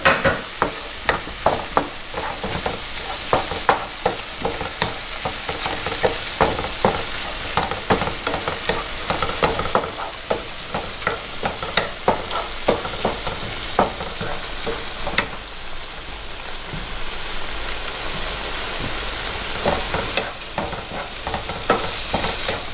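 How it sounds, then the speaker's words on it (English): Tomato with parsley and basil sautés in a pan with a bright, constant sizzle, while a spatula repeatedly scrapes and taps against the pan in quick strokes, close and without voices. "Saute here until it gets golden brown"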